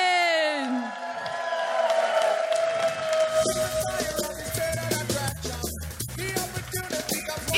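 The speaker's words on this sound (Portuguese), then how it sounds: "Isso é que é uma salva de palmas" Audience applause and cheering, a burst of clapping with whoops and yells building after a loud amplified voice at the start.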